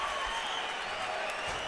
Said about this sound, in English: much of the crowd rising now, standing ovation.